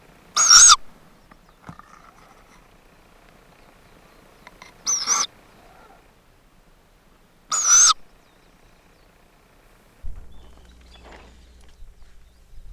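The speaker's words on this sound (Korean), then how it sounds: "올빼미 새끼들도 제법 자랐다." Owl chicks in a chestnut-tree nest give three loud, short screeching calls spaced a few seconds apart over a quiet forest background, followed by a low rumble near the end.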